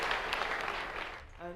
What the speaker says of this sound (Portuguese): Vamos aplaudir a Jesus Cristo.